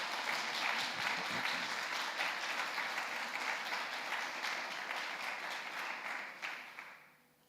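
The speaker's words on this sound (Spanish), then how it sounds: "Dale un aplauso al Señor" A church congregation at a Sunday service applauds steadily and loudly for about seven seconds, the dense clapping tapering off at the very end.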